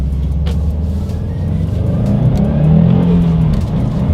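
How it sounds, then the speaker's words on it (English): A 2020 Subaru WRX STI with a manual gearbox accelerates, its engine droning steadily and rising in pitch and loudness toward the end, heard from inside the car with no talking. "let's go ahead and do a quick little acceleration in this one"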